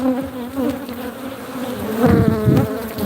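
A swarm of agitated honey bees around a hive hums in a dense, continuous buzz that swells louder toward the end, with no voices over it.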